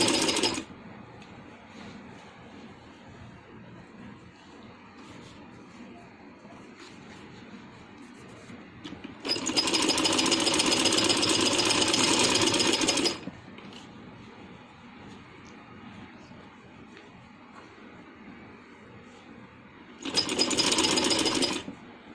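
A sewing machine runs in two loud bursts of steady, buzzing stitching, one about four seconds long and a shorter one near the end, separated by quiet handling, as piping is sewn along a straight seam on a dress.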